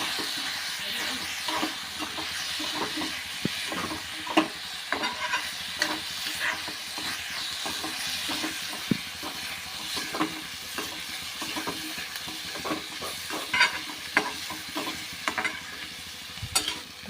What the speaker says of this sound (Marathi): आता हे छानपैकी आपण मिक्स करून घेऊया